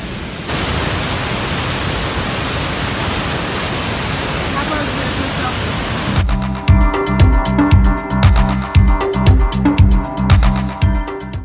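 A powerful waterfall, Abrams Falls, roars as a steady, dense wash of rushing water, then heavy rhythmic thumping joins over the roar partway through.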